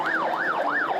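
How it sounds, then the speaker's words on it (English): An ambulance siren wails in a fast, rising and falling cycle during a street protest, loud and steady as the vehicle rushes past. "The only time they gave way was when an ambulance rushed past."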